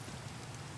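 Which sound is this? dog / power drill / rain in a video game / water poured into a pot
rain in a video game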